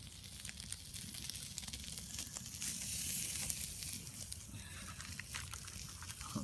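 Thick slices of bacon frying in a pan at a camp, a steady close sizzle with soft crackles and a low rumbling background throughout, no voices.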